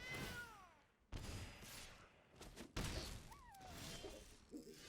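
A cat creature's meow sound effect from the card game MTG Arena, several short bright mewing calls with gliding pitch mixed among game effects, fairly loud and with no talk over it.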